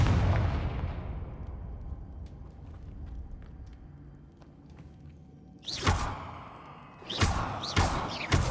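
Confringo fire blast spells in Hogwarts Legacy, a few sharp bursting impacts in quick succession after a stretch of quieter low rumble and faint ambient ticks.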